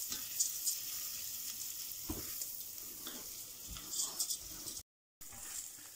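Risotto rice toasts in a hot pan with a soft, continuous sizzle, broken now and then by faint stirring scrapes, heard close and fairly quiet.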